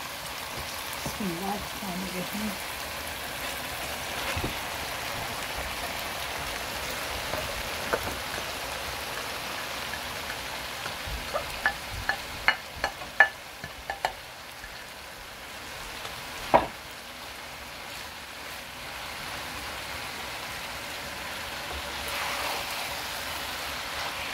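Beetroot frying with mince and tomato in a pan, giving a steady rain-like sizzle with a cluster of sharp clicks and scrapes midway, while a person talks over it.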